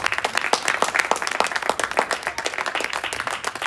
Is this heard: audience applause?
yes